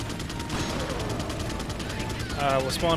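Resident Evil 4 combat with rapid gunfire, a fast rattling stream of shots with mechanical clatter, growing louder near the end as a player's voice talks over it.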